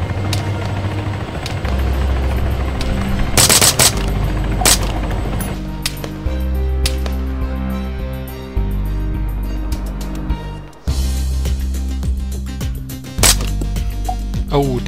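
Gunfire in the military video game Arma 3 cracks out in several sharp, loud shots over a steady helicopter-like rotor drone and low rumble, with scattered intermittent reports across the stretch.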